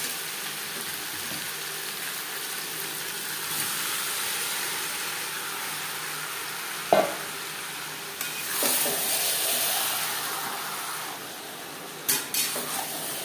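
Marinated chicken sizzles and fries with onions and bay leaves in a pan over high flame, a steady broadband crackle broken by several sharp utensil clinks and scraping stirs, close and fairly loud with no talking.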